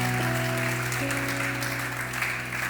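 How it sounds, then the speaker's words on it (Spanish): A church congregation claps during a Spanish-language service, dense and steady throughout, layered over sustained keyboard or organ chords. "Dele un aplauso al Señor en esta mañana."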